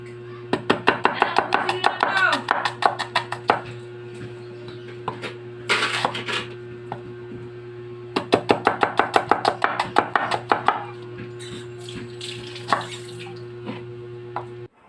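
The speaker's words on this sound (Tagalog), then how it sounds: "Pagkatapos nga nating hiwain yung ating mga pampalasa" Rapid knife chops on a cutting board as spices and seasonings are cut for ginataang gulay, coming in quick bursts with pauses between them, close and crisp over a steady low hum.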